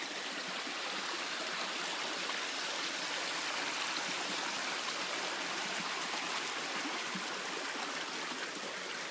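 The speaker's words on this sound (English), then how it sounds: "I'm at a different section of the creek." Creek water flows in a steady, dense rushing babble, close and continuous outdoors with no voices.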